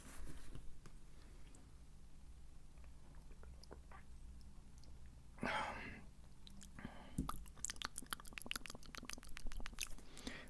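Close, quiet mouth sounds of someone eating a croissant-like pastry: soft wet chewing with bursts of crisp crackling and clicks near the microphone.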